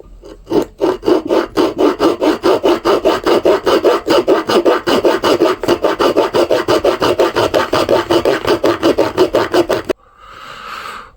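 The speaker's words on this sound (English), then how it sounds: "got the handle nice and sanded down" Rough, rasping strokes as a wooden hammer handle is sanded and shaped, a steady rhythm of about two strokes per second, loud and close, that stops abruptly near the end, followed by a brief softer scrape.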